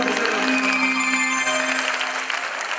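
An audience claps steadily, a dense burst of applause held at even loudness throughout.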